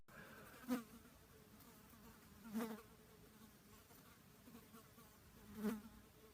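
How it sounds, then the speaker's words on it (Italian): A housefly buzzes faintly in a quiet room at midnight, with three short, louder passes as it flies near, over a low background hiss. "E c'è una mosca che ronza."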